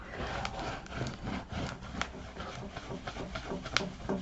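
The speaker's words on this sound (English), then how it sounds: "So much easier to burnish it." A tool rubs back and forth over paper pressed into a floral folio photo album, a soft, continuous scratchy rasp with uneven strokes at close range.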